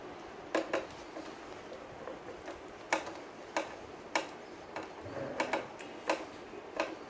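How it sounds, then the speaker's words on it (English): Screwdriver tightening a screw that holds a pedestal fan's head to its pillar, heard as about ten sharp, separate metallic clicks and ticks at uneven intervals, close and fairly loud over a quiet background. "Now using a screwdriver, tighten the screw in place so that the head is firmly attached to the pillar."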